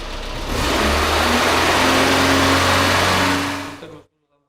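An engine running on crude oil revs up to about 3000 RPM and holds a loud, steady mid-pitched drone for several seconds. It then cuts off abruptly into silence.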